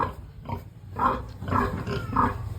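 Pig grunts from a farm pen, three or four short nasal snorts spaced about half a second apart, close and moderately loud over low background noise, with no talking.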